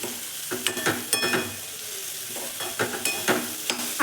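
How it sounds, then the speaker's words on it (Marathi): Leftover rice mixed with fresh coriander is stir-fried in a pan, a spatula scraping and tossing in repeated bursts over a steady close sizzle. "आता कोथिंबीर पण टाकून घेऊ आणि व्यवस्थित परतून घेऊ."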